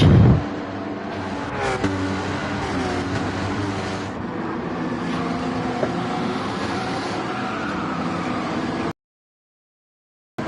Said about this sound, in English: A lot of tyre squealing.